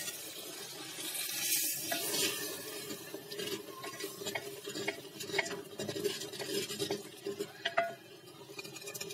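Mashed tomatoes are stirred into dal in an earthen pot, a close, soft, continuous scraping and swishing of a spoon through thick liquid with occasional light knocks against the pot.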